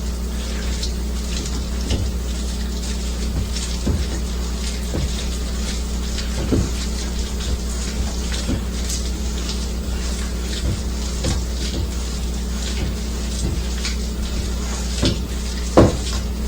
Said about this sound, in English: you'll find your own technique to mash these.